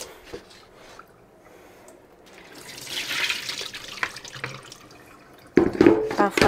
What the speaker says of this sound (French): Donc d'abord je rince bien mon bol.